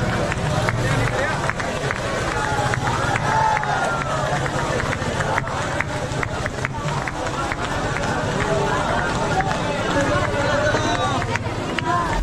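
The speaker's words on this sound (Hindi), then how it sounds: "आप देख सकते हैं यहाँ पर कितने मात्रा में लोगों की भीड़ है" Large crowd of devotees at Premanand Maharaj's ashram in Vrindavan, a steady close hubbub of many people moving and murmuring, with someone narrating loudly over the throng.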